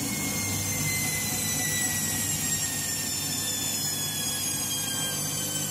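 A Candy washing machine on an intermediate spin, its drum whirring in a steady, continuous hum with faint high whining tones, running alone without talk throughout.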